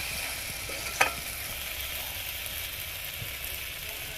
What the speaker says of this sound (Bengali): আর চিকেনটা এখন কষা হচ্ছে